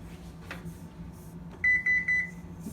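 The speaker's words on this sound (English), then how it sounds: "we're gonna start preheating the oven to 350" An oven being set to preheat to 350 gives a short run of about four quick electronic beeps, clear and close against a quiet kitchen with no talk.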